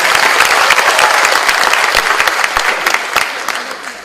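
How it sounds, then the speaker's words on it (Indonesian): A stand-up comedy audience in Indonesia bursts into loud, dense applause that holds steady, then gradually thins and softens toward the end, with no one speaking over it. "Tepuk tangan dulu untuk perempuan-perempuan."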